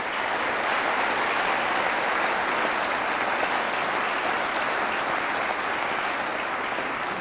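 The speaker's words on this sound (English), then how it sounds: "I think that this team and Professor Weber deserve a round of applause." Large audience applause at a university state-of-the-university address honoring a Solar Decathlon team and their professor, a loud, steady, unbroken roar of clapping throughout.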